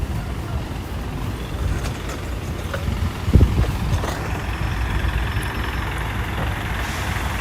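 A city bus idles on a South Korean street in light rain, its engine a steady low rumble that runs throughout, with a brief louder thump near the middle and general street ambience behind it.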